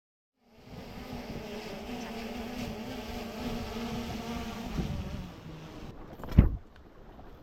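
A drone lifts off at a fishing camp on an uninhabited island, giving a steady buzzing hum with tonal whine that holds for several seconds, then a sharp close thump near the end.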